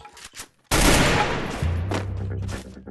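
Sustained burst of video game gunfire in Free Fire, loud and close, starting abruptly and running continuously to the end, with brief speech before it starts.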